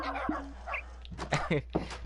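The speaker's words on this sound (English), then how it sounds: "Oh my goodness, rapid barking." Several quick, sharp dog barks and yips in a rapid burst from dogs in Minecraft, fairly close, with a faint voice murmuring briefly underneath.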